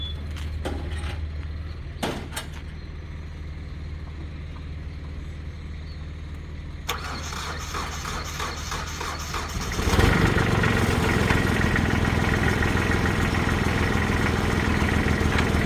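A Kubota 2410 tractor sits at a low idle beside a few sharp clanks, then its diesel engine revs up and runs louder and rougher, steady and close to the end.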